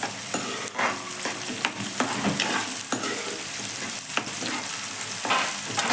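Onions frying in hot oil in a pan, with a steady sizzle under repeated scraping and stirring clicks from a spoon, close and continuous.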